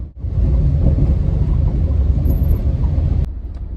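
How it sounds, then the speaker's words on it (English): Rain falls outdoors as a loud, continuous rumbling wash of noise that holds steady for several seconds before dropping off abruptly near the end. "It's raining and I just don't like when it rains"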